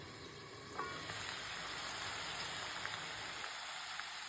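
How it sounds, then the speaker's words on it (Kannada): Steady, faint sizzle of potatoes frying in a pan for a dry aloo fry, a continuous crackling hiss with occasional soft pops and stirring, no voices. "ಇವಾಗ ನಾವು ಆಲೂ ಇಷ್ಟು ಫ್ರೈ ಆಗಿದೆ"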